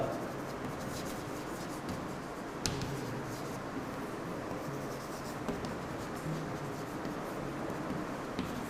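Chalk or marker scratching steadily across a board in a physics lecture on Kirchhoff's law, continuous strokes with small taps, fairly near, no talking.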